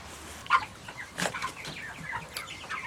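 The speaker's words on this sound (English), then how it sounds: "Let's go see what the chickens are up to." Rhode Island Red chickens cluck in short, scattered bursts at moderate distance, with a few brief wing flaps among the clucks and no talking.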